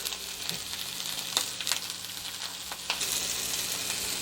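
Pork tenderloin sears in a hot cast iron skillet, producing a steady close sizzle and hiss with a few small pops and clicks, and no talking.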